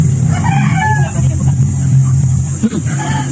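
A rooster crows nearby while chickens cluck, over a steady background hum with some voices.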